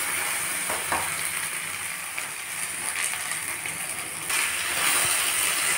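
Okra (bhindi) fries in a pan with a steady, close sizzle and crackle that carries on throughout, with a few light clicks from stirring and no talking.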